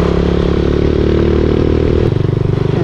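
A motorcycle engine drones loud and steady up close as it rides along, with a rattling clatter and a shift in tone near the end, crossing a bridge in Clark, Tarlac, Philippines.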